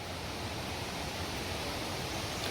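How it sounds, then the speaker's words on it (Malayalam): A forest waterfall heard as a constant broad rushing roar of falling water, steady and unbroken throughout, moderately distant with no voices. "താഴത്തൊക്കെ വെള്ളച്ചാട്ടം"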